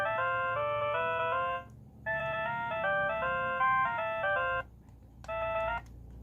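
Nokia N70 Music Edition phone playing a tinny polyphonic melody through its small speaker, bright repeating notes in three phrases separated by short pauses, loud and close with no talking.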